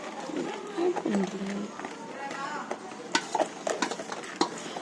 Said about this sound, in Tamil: ஸோ இது வந்துட்டு நான் மிக்ஸ் பண்ணிட்டு இருக்கேன்